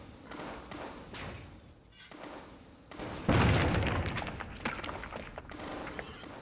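A bomb goes off in the video game Shadow Man 2econd Coming, a loud booming thud with a broad rumbling burst that swells and then trails off.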